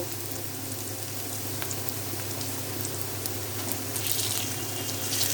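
Onions frying in a pan for boal fish bhuna, a steady, even sizzle and crackle held at one level from start to finish, with no talking.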